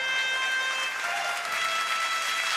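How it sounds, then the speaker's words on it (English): Continuous applause from an audience at a Sunday service show, a dense, even wash of clapping heard for a few seconds with no talking. "Everybody give her a big round of applause."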